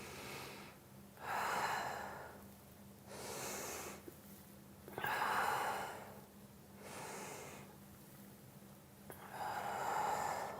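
Slow, deep yoga breathing during a beginner class, with long audible inhales and exhales alternating in a steady rhythm about every two seconds, close and clear over a faint background hum.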